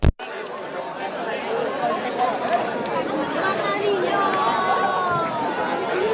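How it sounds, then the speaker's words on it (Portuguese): Stadium crowd of América supporters at a Chapadinha championship quarter-final football match, a steady dense roar of chatter and cheering close around, with a brief loud burst at the start and a faint whistle-like tone later. "Aí você, torcedor, ouvindo o som do estádio. Torcida que vibra e que lota o estádio."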